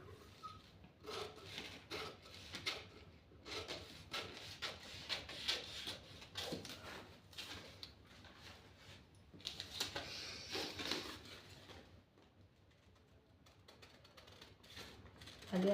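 Scissors cut along a folded paper pattern for a blouse, a steady stream of rasping, rubbing snips and paper rustles, close and continuous, easing briefly near the end.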